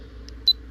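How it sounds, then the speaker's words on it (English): A W&O Q7 budget vlogging camera gives short electronic menu beeps: one faint blip, then a louder, slightly longer beep a moment later, alone over a quiet background hum. "Let's turn that pesky beeping sound off."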